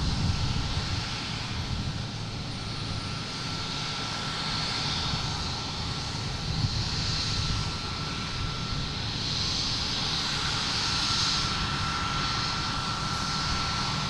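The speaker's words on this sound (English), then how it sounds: "A Delta coming in from Reagan." Delta Embraer E-175 arriving at Boston Logan from Reagan, a sustained jet engine roar with a faint whine that gently swells and recedes, without voices.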